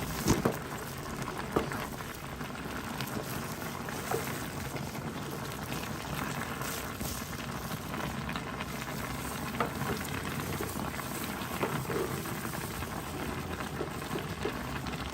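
Pork meat simmers in a pot of boiling liquid, giving a steady, dense bubbling and crackling fizz that runs throughout with scattered louder pops.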